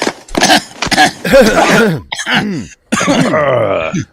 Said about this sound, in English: That was an extra good cough today.